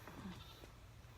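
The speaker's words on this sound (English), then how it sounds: "you hear the goats back there?" Goats bleat faintly in the background, a short wavering cry or two, distant and quiet beneath a steady low rumble.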